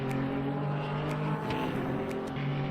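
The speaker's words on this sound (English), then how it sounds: "Trying to go around the outside of the GT3 there in the braking zone." A GT3 race car drives at Silverstone during a European Le Mans Series race: a steady, loud engine drone with strong sustained tones that dip briefly in the middle, holding throughout with no talk.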